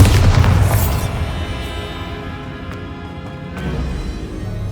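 A Bombarda spell blast in the Hogwarts Legacy video game, a loud, close booming burst at the start that rumbles and fades into a lingering low echo with faint crackles.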